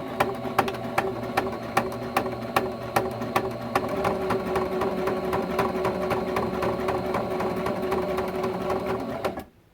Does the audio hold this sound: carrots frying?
no